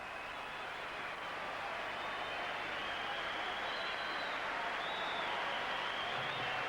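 A boxing arena crowd applauds and cheers in a continuous, even wash of clapping and crowd noise, heard at a distance and holding steady for the whole stretch.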